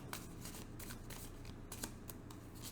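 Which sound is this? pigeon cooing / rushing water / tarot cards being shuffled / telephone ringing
tarot cards being shuffled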